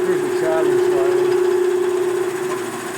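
A milling cutter chatters slightly while machining a flywheel truing tool for a Milwaukee-Eight crankshaft, heard as a steady droning hum with a faint rattling vibration, close-up and fairly loud.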